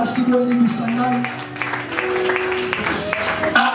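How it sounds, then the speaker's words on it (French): A church congregation at a Sunday service applauds and cheers under a preacher's call for acclamation, with clapping and scattered voices mixed with what sounds like music throughout. "Donnez-moi l'acclamation."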